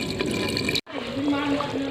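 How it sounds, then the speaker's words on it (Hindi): Water pours into a pan of cooked spice masala for a garlic curry, a continuous close splashing and gurgling that breaks off briefly before resuming as a steady liquid fill. "तो इसमें हम पानी डाल देती हूँ।"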